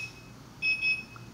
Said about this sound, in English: As you can see, you have different types of alarm sounds.